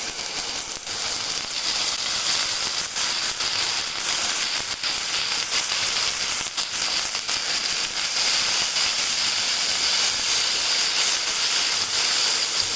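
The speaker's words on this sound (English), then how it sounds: "That's just 20 ml of the white wine, but you see it's quickly evaporated." A splash of white wine, about 20 ml, hitting a hot pan of crispy mushrooms and chopped garlic gives a loud, steady hiss of steam that holds for the whole stretch, with no voices.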